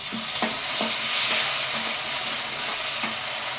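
Tomatoes go into a hot pan for a Telugu home-style dal, sizzling steadily while a spoon scrapes and stirs in a series of regular clinks over the continuous frying hiss.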